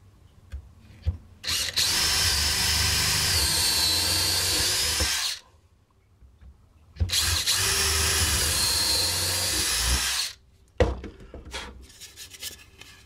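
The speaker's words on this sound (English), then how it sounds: "I'm going to use this combination drill and countersink and do that all in one operation." A combination drill and countersink bores screw holes in hub plates for silhouette decoy V boards, two loud close whirring runs of about four seconds each, separated by a short quiet gap.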